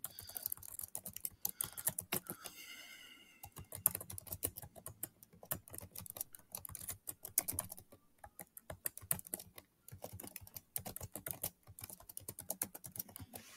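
Someone types a company address into an online SECP private limited company registration form. Fast, steady keyboard clatter sounds close up and alone, with only a brief pause early on.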